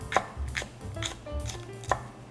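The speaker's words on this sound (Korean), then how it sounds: "대파는 그냥 이렇게 어슷하게 썰어 주시면 되고요" A kitchen knife slices green onion diagonally on a cutting board, making a handful of crisp, evenly spaced chopping taps up close, with no talking.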